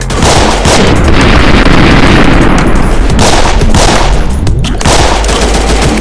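Dense, loud gunfire from enemies in a video game, a continuous rattle of automatic shots and bursts filling the whole stretch with no voices.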